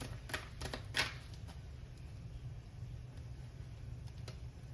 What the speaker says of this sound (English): Just felt called to shuffle for you guys.